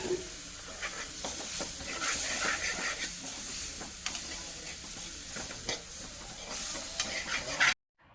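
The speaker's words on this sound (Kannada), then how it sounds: "ಎಣ್ಣೆ ಜೊತೆ ಸ್ವಲ್ಪ ಫ್ರೈ ಮಾಡಿ ನಂತರ ನೀರನ್ನು ಹಾಕ್ಕೊಂಡು ಮಸಾಲೆನ ಕುದಿಸ್ಕೊಬೇಕು" Masala powder frying in oil for Maggi, a close crackling sizzle with stirring scrapes and occasional sharp ticks, steady hiss throughout before cutting off abruptly near the end.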